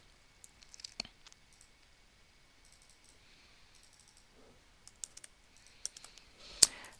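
Mouse clicks while editing a Morrowind quest mod: sparse, quiet clicks scattered across the stretch, with a louder click near the end.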